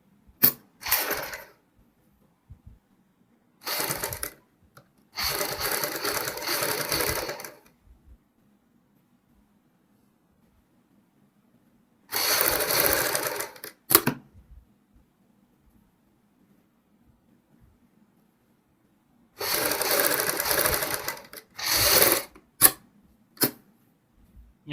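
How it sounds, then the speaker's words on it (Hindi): Sewing machine running in several separate bursts while stitching piping along the folded inner edge of a blouse back neck, with short mechanical clicks between runs and quiet gaps. "इसको अंदर की साइड फोल्ड करते हुए पाइपिंग के साथ साथ सिलाई लगाएंगे"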